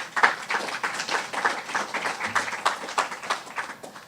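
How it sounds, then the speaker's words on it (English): An audience gives another round of applause at a talk, a fairly quiet, steady patter of many hands clapping with fairly even rhythm throughout, heard at a slight distance. "I suppose that deserves another round of applause"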